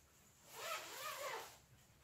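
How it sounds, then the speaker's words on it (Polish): A sleeping bag's centre zipper, a two-way zip on a 729A bag, is drawn open in one smooth continuous rasp lasting about a second, close and fairly quiet, with no voices. "suwak po środku, również otwierany dwustronnie"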